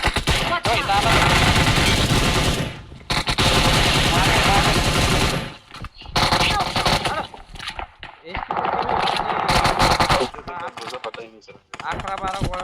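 Video game gunfire crackles in dense automatic bursts separated by short gaps, loud and close, with people talking over parts of it.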